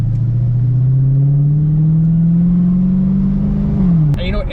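A Dodge Charger Daytona Hellcat at full throttle, its engine pitch climbing steadily in one long loud pull for about four seconds before easing off abruptly at the end.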